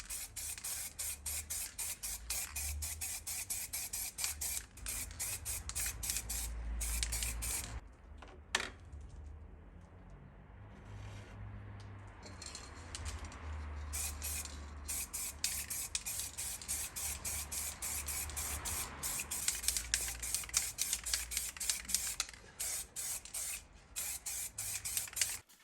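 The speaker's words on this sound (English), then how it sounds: "Now we're going to move on to the silver spray paint." Silver spray paint sprayed from a can onto a Nintendo DS shell: long, loud hissing bursts fill most of the stretch, broken by a few short pauses, with faint clicks between sprays.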